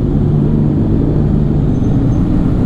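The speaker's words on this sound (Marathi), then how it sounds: "S1000 RRचा आवाज बास कानात सप्त सुरच लागते ती एकदम." A BMW S1000RR motorcycle engine runs loud and close in a steady low rumble that holds constant throughout, with no voices.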